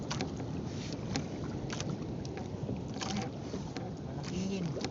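Small motorized boat at sea, its engine droning steadily under wind and splashing water, with people talking faintly over the noise.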